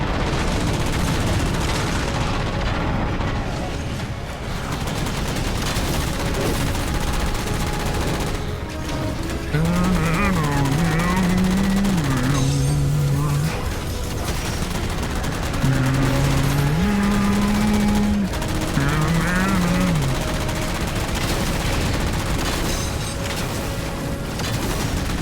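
Dense, sustained video-game gunfire aimed at the player, who is inside a mantis. It runs as a loud, continuous barrage layered with engine-like roar and a rising and falling whistling tone.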